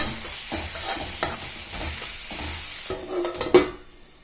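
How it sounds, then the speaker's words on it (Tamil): Curry leaves, asafoetida and turmeric sautéing in hot oil for a tomato onion thokku, a soft steady sizzle broken by a few sharp spatula scrapes and taps against the pan. "இதை நல்லா வதக்கிட்டு மூடிடுங்க."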